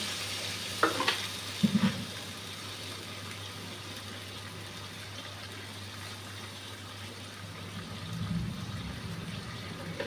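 Egg kosha simmering and sizzling in a pan after a little water is added, a soft continuous bubbling hiss with a few clinks of a spoon early on, fairly quiet and close.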